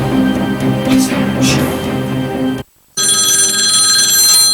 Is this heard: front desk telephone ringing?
yes